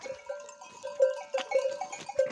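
Repeated bleats from sheep on a mountain, several short calls close by with a faint clank in the background, no talk.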